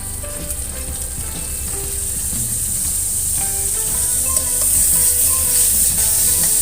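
Margarine sizzles and crackles steadily in a hot frying pan, a bright constant hiss with small pops, growing a little louder toward the end.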